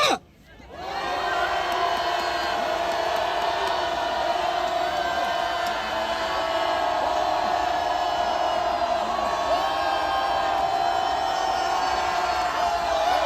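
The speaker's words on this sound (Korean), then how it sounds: "우리 대통령 힘내시라고 다 같이 함성 한번 합시다" A crowd at an anti-impeachment rally outside the Corruption Investigation Office roars and cheers together in support of the president, a loud, sustained wall of shouting and whoops that swells in after a brief dip and holds steady to the end.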